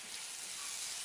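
An egg fried rice mixture with soy sauce is stirred in a hot pan, a steady close hiss and sizzle with no talking.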